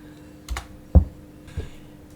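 Three sparse keystrokes on a computer keyboard entering a command in STATA, close and clear against a quiet room hum.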